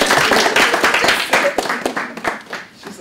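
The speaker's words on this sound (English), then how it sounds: "A round of applause for Becca again." A festival audience gives a round of applause, close and fairly loud clapping with distinct individual hand claps that thins into scattered claps near the end.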